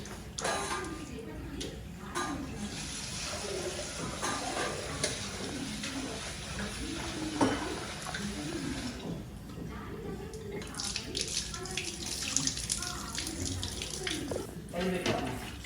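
Running tap water splashes steadily as prawns are washed by hand at a kitchen sink, with light handling clatter through the whole stretch and someone talking over it.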